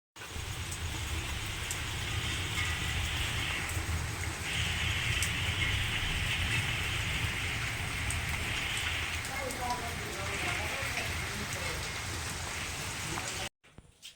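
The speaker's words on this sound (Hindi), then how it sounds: "बारिश देखो बहुत तेज बारिश आने में लगी पड़ी है" Heavy rain pours down in a steady, dense hiss, close and continuous for most of the stretch before stopping abruptly near the end, with a brief clatter afterward.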